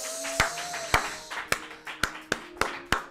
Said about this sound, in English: gonna keep clapping for Celina